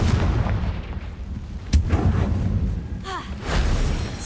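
A Confringo blasting spell in Hogwarts Legacy, a loud fiery burst with a sharp crack and rumbling blast over dense combat noise, followed by a brief whooshing sweep.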